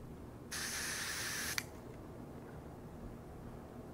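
DPS Black Label pepper spray fogger firing one continuous loud hissing burst for about a second, then abruptly cut off with a click, followed by quiet room tone.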